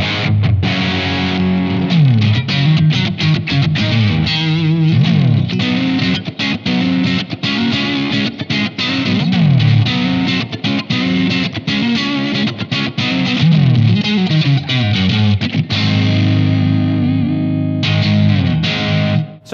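An electric guitar plays through a regular distortion tone on a Blackstar AMPED-1 100-watt pedalboard amp, loud and continuous, with chugging chords and sustained notes that break off briefly near the end.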